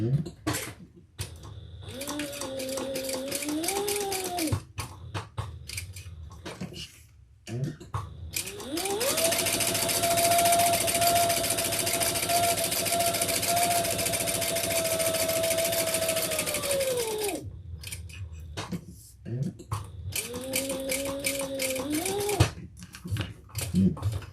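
Sewing machine stitching down the sides and across the open edge of a handbag, a steady motor hum rising in speed for several short runs, with one long continuous burst in the middle, close and fairly loud.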